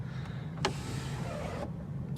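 A car's electric moonroof motor whirs for about a second between faint clicks, a quiet, close hum inside the cabin with no voices.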